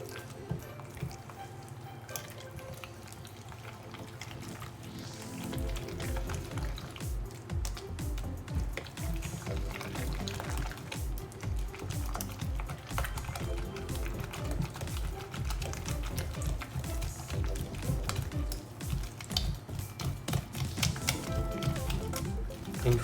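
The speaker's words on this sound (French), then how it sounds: "Une fois l'œuf mélangé, ajoutez-en un deuxième." An egg is mixed into choux pastry dough in a bowl, producing rapid, continuous wet slapping and clicking strokes that start after about five seconds and keep going steadily, close up, without speech.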